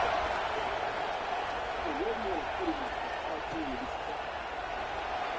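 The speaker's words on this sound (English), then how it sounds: "this crowd is buzzing after that last score" A football stadium crowd during a college game: a steady, dense roar of many voices washing continuously under a commentator's voice, with faint whistles rising out of the din.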